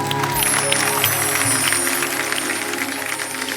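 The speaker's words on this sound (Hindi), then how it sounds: "पवन के लिए एक बार जोरदार तालियां।" Studio audience on The Kapil Sharma Show claps for singer Pawan, a dense, loud burst of applause over a faint steady musical hum, swelling slightly then easing.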